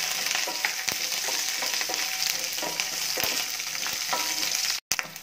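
Garlic, cumin, fenugreek and curry leaves fry in hot oil with a steady, close sizzle, punctuated by sharp crackles and pops and a brief cut near the end.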